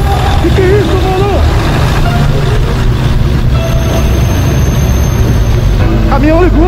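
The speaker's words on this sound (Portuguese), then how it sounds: "Caminhão ligou, né?" Steady low rumble of a truck engine running, loud and continuous beneath agitated speech and exclamations.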